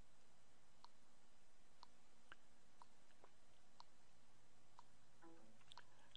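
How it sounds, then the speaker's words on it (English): Faint, evenly spaced clicks from a LEGO NXT computer brick as firmware downloads, about one every second over a quiet background hum, with a brief rustle near the end. "You might hear some clicking."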